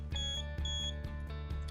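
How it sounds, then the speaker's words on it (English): A LeakSmart smart water shut-off system's leak detector sounds repeated electronic beeps, close and steady in a regular pulsing rhythm, with a low mechanical hum underneath and no talk. "So you'll hear we have an audible beep, and then my valve is going to go ahead and close there for me."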